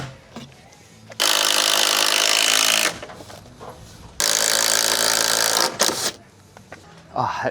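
A wooden stud is sawn to length on a pool house build, with two long, steady, loud passes of cutting close by, separated by a short pause and followed by a brief clatter.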